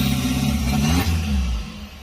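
A small car's engine revs loudly and noisily, a rising mid-pitched whine that climbs then drops away as it passes close by, with no talking.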